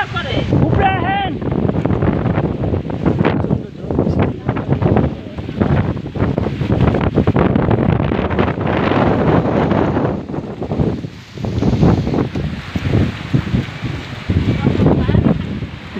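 A strong storm wind roars continuously and loudly, buffeting the microphone with steady rough gusts for the whole stretch.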